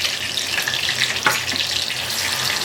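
Ginger-garlic paste sizzles loudly in hot oil with mustard seeds and cumin powder for a misal pav masala, a continuous close frying crackle broken by one sharp clank of a utensil partway through.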